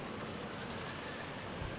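Heavy storm rain pouring down in the visual novel game Umineko, a steady broadband hiss of downpour without pauses or voices.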